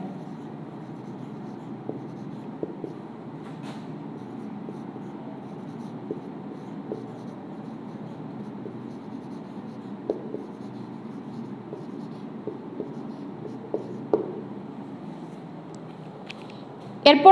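Handwriting on paper, steady soft scratching strokes with small taps and pauses, close and quiet, continuing throughout and ending in a brief louder rustle.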